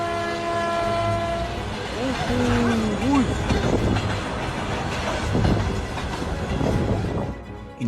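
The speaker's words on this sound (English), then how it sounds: "The train whistles, but too late to avoid disaster." A train rumbles along the tracks with a loud horn blasting early on, followed by a heavy, roaring rush of noise.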